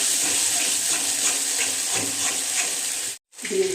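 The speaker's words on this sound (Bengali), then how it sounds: "মশলাটা আমি ভালো করে কষিয়ে নেব।" Spice paste (masala) being fried in a pan, a close, steady hissing sizzle with soft stirring scrapes throughout, broken by a brief silent gap near the end before the sizzle resumes.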